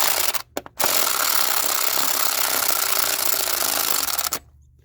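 A power tool runs coil screws in snug on a Lexus RX350, whirring steadily for several seconds after a couple of quick stuttering starts, then cutting off abruptly, with no voices.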